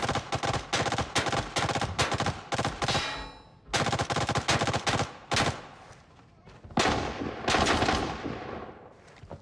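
Suppressive gunfire in Arena Breakout comes as several loud, close bursts of rapid automatic shots separated by short pauses, with echoing tails between the volleys.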